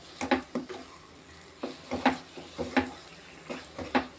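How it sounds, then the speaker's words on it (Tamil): Ghee-laced banana leaf halwa being stirred in a pan, with repeated scraping strokes of a spoon against the metal at an uneven rhythm over a soft sizzle, close and moderately quiet. "நம்ம நெய் ஊற்றான கிண்டுறோம் நல்லா பச்சை கலரில் இருக்கும் அல்வா"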